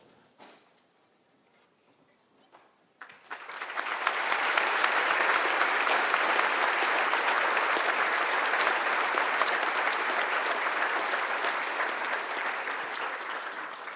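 An audience at a law enforcement officer awards ceremony breaks into applause after a few scattered claps, building quickly into sustained, loud, even clapping that holds steady to the end.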